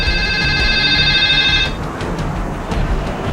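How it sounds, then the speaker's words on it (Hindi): A telephone rings with a steady electronic trilling tone that stops partway through, followed by quieter background room sound. "उनके फोन है लगता है।"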